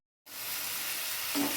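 Ginger fried in hot oil starts sizzling abruptly after a brief silence, a steady close hiss with a faint stir near the end.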